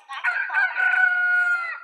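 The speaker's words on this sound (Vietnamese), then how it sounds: "Gà kêu này." One rooster crows a full cock-a-doodle-doo from a Scratch sound effect, loud and close, its long rising and falling call stretching nearly two seconds with no talking.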